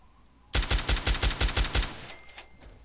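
Rapid automatic gunfire from the player's weapon in Fallout 3, a burst of about ten evenly spaced loud shots over a second and a half, trailing off into a few scattered impacts.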